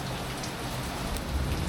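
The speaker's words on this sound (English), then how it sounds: "We might as well take advantage of the rain." Rain falls steadily on a sailboat at sea during lightning squalls, a dense, even hiss of drops drumming on deck and canvas, loud and close, with no voices.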